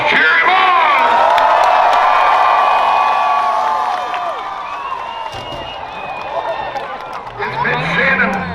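Crowd at a county fair rough truck event in Portage County cheers, whoops and shouts loudly and continuously, fading a little midway before swelling again, with a voice talking over it.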